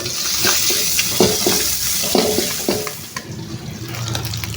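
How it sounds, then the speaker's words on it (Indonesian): Rice vermicelli (bihun) stir-fried in a home kitchen pan: a series of loud scraping stirs over a continuous sizzle, with a watery hiss toward the end and no talking. "Sekarang kita buat bihun."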